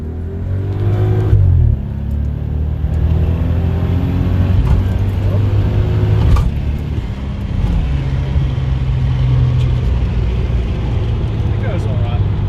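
A twin-turbo Toyota Aristo drives along a private back road, its engine droning steadily with rises and dips in pitch as it shifts and pulls, heard from inside the car while people talk over it.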